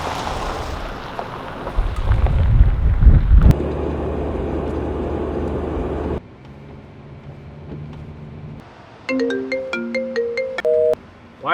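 A telephone rings at the end of a short film scene, a bright repeating electronic ring tone heard clearly after rumbling wind-like noise and a quieter stretch of background hum.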